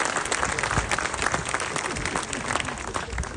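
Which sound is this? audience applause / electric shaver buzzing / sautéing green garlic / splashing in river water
audience applause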